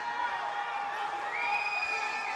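Arena crowd at a men's wheelchair basketball world championship quarter-final, Australia against the USA, roars and cheers after a blocked shot, a steady, dense wall of voices with whoops rising over it and holding through the moment.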